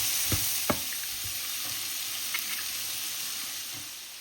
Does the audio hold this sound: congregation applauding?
no